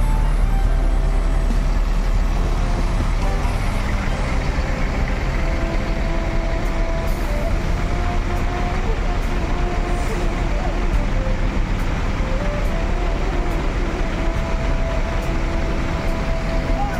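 A Gumarang Jaya passenger train pulls out of a busy station, its steady low rumble and rolling noise continuous throughout, with station ambience and bits of talk mixed in.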